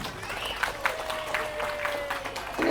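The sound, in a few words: audience applause for TPA Nurul Alamin teachers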